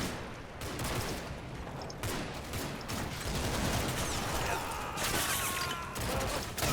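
Sustained rattling gunfire from the war video game Combat Mission, with overlapping rifle and machine-gun bursts and scattered impacts forming a dense, continuous barrage with no pauses.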